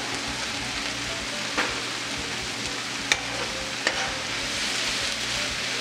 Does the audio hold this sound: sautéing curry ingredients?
yes